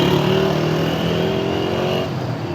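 A car idles and rolls slowly as it pulls over to the roadside during a roadside vehicle inspection, a steady close engine drone that eases slightly lower toward the end, with no talk.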